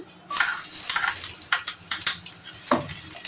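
Gentle sizzling of crushed garlic frying in oil, with intermittent stirring scrapes from a utensil against the pan, up close and fairly quiet.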